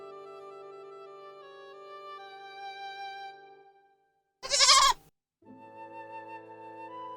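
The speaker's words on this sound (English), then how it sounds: "Where'd that goat come from?" A single loud goat bleat bursts in briefly, cutting through a gentle background of music that fades out before it and resumes right after.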